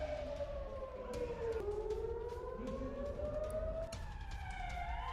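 Air raid sirens wail in Tel Aviv, a long rising and falling tone that sweeps down and back up, steady and prominent against a low urban rumble.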